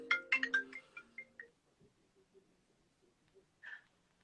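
A mobile phone ringtone plays as a short melodic run of bright tones, loud and clear at first, then quieter low tones follow with one brief tone near the end.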